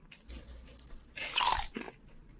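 An Old Dutch All Dressed potato chip is bitten and chewed up close, giving a series of sharp, crisp crunches that peak in one loud burst before fading into softer chewing.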